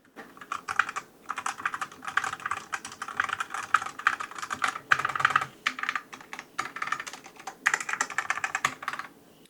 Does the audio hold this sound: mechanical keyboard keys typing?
yes